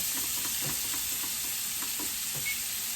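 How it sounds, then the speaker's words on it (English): Mushroom and parmesan risotto being stirred in a pan over medium heat: a steady soft sizzle with faint, irregular scrapes of the spoon, quiet and close, with no talking. "Give it a nice stir."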